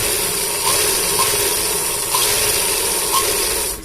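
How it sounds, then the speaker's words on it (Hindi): A sewing machine stitches a trouser waistband with a zipper chain held taut, a steady close mechanical whirr and rasp with light rhythmic ticks running throughout. "इस तरह से सिलाई करनी होगी दोस्तों।"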